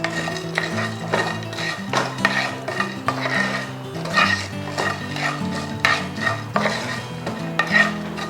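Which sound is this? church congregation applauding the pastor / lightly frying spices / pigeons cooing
lightly frying spices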